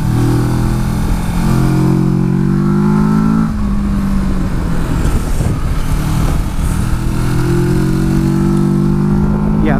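A 2018 Kawasaki Versys 650 motorcycle engine accelerates on a test ride, a loud close-up drone whose pitch climbs steadily, drops at a gear change, and climbs again.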